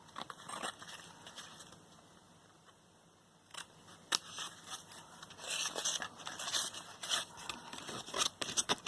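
Scissors snipping along the edges of a folded paper envelope, a quiet stretch of faint handling followed by a run of close crisp cuts and rustles, alone.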